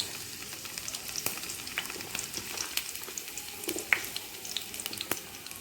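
Chopped onion and green chili go into hot mustard oil, a soft steady sizzle with scattered faint clicks and crackles, fairly quiet and without talk.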